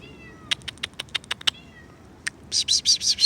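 Several cats meow in short, repeated calls on a city street, starting with a quick series of sharp mews and ending in a run of louder, drawn-out meows close by.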